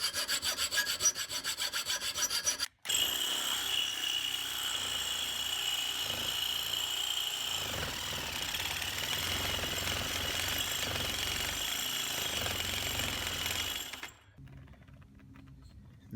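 Harsh, steady grinding or cutting at a Nilight LED light's solid metal heat sink, loud and continuous for about fourteen seconds after a brief pause, then cutting off abruptly to near silence.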